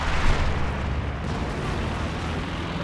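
Aircraft and explosions in the Company of Heroes 2 strategy game form a dense, loud, continuous rumbling roar of blasts and engine noise, steady throughout with no clear breaks.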